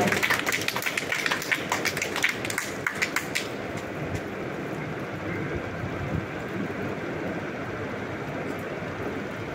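Applause from an audience at a book launch event in Bhubaneswar, Odisha: a steady wash of many hands clapping with sharper claps at the start, continuous and fairly close, fading slightly toward the end.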